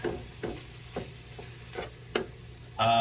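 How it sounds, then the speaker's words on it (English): Bacon cooking in a pan for a corned beef hash breakfast burrito, with a few soft scraping strokes spaced apart before a loud, steady sizzle bursts in near the end. "So we're gonna cook some bacon"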